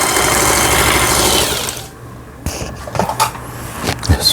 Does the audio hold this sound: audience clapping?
no